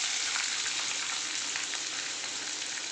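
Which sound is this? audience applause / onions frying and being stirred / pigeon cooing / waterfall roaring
onions frying and being stirred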